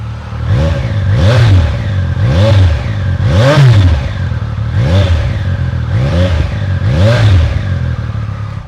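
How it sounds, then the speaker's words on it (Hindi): A Triumph Speed Triple 1200 RR Breitling Edition motorcycle revving repeatedly, its engine note rising and falling in about six loud, close, rhythmic pulls over a steady idle. "सो गाइस RPM डाउन हो चुका है, अब उसको एक बार रेफ करके सुनाते हैं।"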